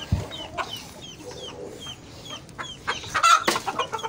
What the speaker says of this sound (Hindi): थोड़ी ज़्यादा मुर्गे हैं